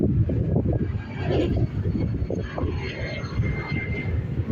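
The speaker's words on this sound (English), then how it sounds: "There we go, EI172 heading to London Heathrow." Aircraft EI172 taking off from an airport for London Heathrow, a continuous rumbling jet roar heard from a distance, with a faint whine running through it.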